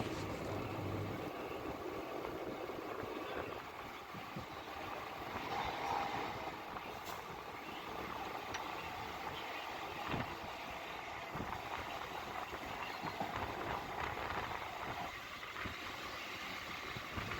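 A Chennai suburban electric train running between Beach and Tambaram, heard from on board as a steady rumble and rattle with faint intermittent clanks, continuous and fairly quiet throughout.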